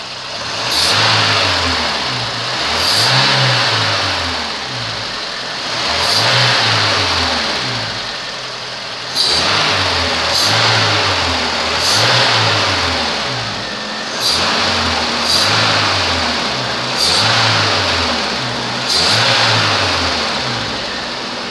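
A VW Parati engine with an unsteady idle is revved repeatedly, giving about nine rising and falling pulses at a steady rhythm over a continuous close, loud mechanical drone. No one speaks.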